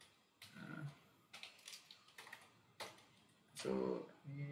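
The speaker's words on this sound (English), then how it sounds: "Okay, I'll explain after typing." Keys clatter on a computer keyboard as C code is typed at a desk, sparse clicks and short bursts spread across the moment, with a voice briefly speaking near the end.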